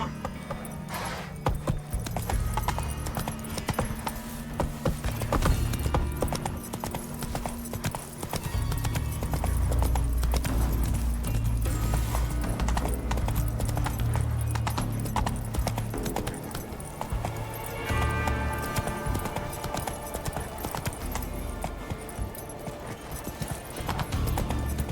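Roach the horse galloping in The Witcher 3, steady rapid clip-clop of hooves over continuous ambient game sound, fairly loud and unbroken for the whole stretch.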